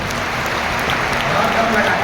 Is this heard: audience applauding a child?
yes